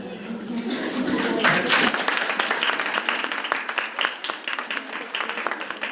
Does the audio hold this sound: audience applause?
yes